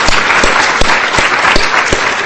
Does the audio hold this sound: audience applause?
yes